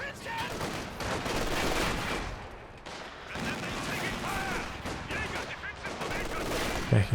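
Rapid battle gunfire from SVT rifles and other weapons fills a Company of Heroes 2 match, a dense, continuous crackle of shots and explosions with a commentator talking over it.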